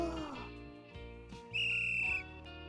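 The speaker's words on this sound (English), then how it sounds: "She points at me as she blows her whistle." A whistle blown by a character in the video game Rewrite+, one sustained shrill blast of about two-thirds of a second, loud and close, rising over a bed of background game music.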